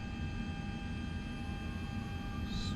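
Airplane engine in X-Plane 11 while taxiing at John Wayne International Airport, a faint steady engine drone with constant tonal whine and a brief higher chirp near the end.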